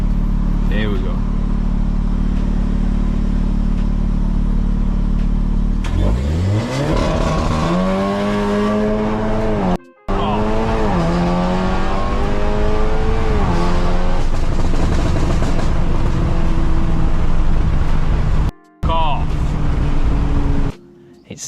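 A stage 2, full bolt-on VW Golf R of around 403 brake horsepower idles loudly, then its engine revs up hard in several rising sweeps, broken by brief sharp cuts, all close and dominant.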